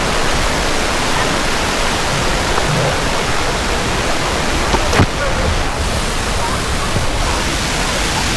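A waterfall at Twin Falls in Kalayaan, Laguna, a loud, steady broadband rush of falling water filling the scene, with a brief click partway through.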